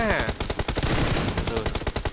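Rapid Uzi bursts in PUBG Mobile, a dense near stream of automatic shots for the whole stretch, loud and continuous with faint game clutter underneath.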